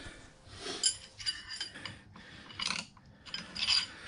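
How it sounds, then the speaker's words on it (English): Metal clicks, clinks and light ratcheting knocks sound close by and intermittently as a splined input shaft is fed into the nut on the saddle of a K&T 2HL milling machine, with no talk. "It looks like I have it in far enough now that I can start feeding it into the nut on the saddle."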